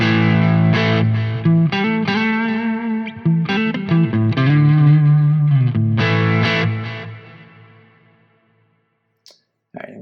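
An electric guitar played through a Soldano amp plugin with an edgy, distorted tone strums sustained chords and short riffs, loud and up close, then rings out and fades to near silence.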